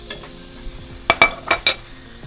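Butter foaming in a hot pan around a pepper-crusted steak with thyme and garlic, heard as a soft sizzle punctuated by four sharp clinks of a spoon or pan at close range, no voices.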